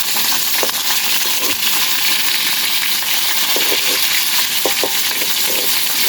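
Food fries in very hot oil in a home kitchen, a dense, loud continuous sizzle with occasional crackles and pops, close up and steady throughout with no voices.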